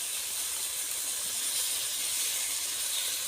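Fresh small country shrimp hit hot oil in a pan while taro greens cook, giving a steady, even sizzling hiss that runs unbroken and fairly quiet, with no voices over it.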